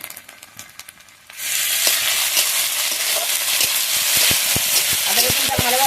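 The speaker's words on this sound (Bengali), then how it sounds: "আদা রসুনটা ভালোভাবে তেলে ভেজে নেবো" Ginger and garlic paste hits hot oil in a pan, setting off a loud, steady sizzle that jumps up suddenly after a quieter start and stays strong, with stirring clicks and scrapes from a utensil on top.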